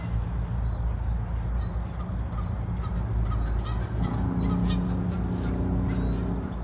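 Birds squabble with loud, repeated honking calls, harsh and insistent, close by over a constant outdoor background hum.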